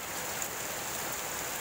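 Continuous heavy rain falls in Cebu City, an even, steady hiss of downpour with no breaks or voices.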